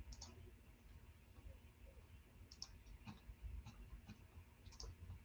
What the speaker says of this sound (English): I will go ahead and type it in the chat